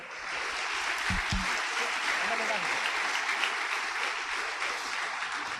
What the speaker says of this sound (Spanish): ¿Cuánto damos palmas al Señor?